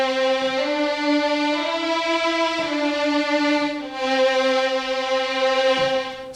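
The Cinematic Studio Strings virtual string library plays sustained, legato ensemble string tones that hold and shift smoothly without pause, heard alone.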